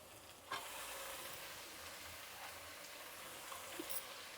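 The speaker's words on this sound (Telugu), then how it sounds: "అది వేగుతూ ఉంటుంది" Sour chukkakura chutney ingredients fry in a pan with a steady, faint sizzle and hiss, a few light stirring knocks near the start and end.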